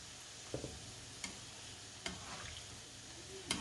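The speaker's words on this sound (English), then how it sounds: "So we now decide to create another batch quickly and fry it in 2 equal batches" Nigerian chin chin dough frying in hot oil, a second batch; soft steady sizzle with a few sharp ticks and clicks from stirring, quiet and close, no talking.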